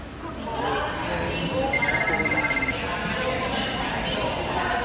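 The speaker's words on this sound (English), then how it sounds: "Telephone's ringing." A telephone rings in a busy food market, its brief repeated trill cutting through steady crowd chatter and background noise at moderate distance.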